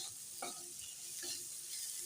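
Potatoes and green beans being stir-fried in a pan, a soft, continuous sizzle with a couple of quiet utensil scrapes against the pan.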